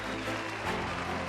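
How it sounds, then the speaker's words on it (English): Applause sound effect cued for a mock award ceremony, a steady wash of many hands clapping together, fairly even in level across the short burst with no voices over it. "cue the applause"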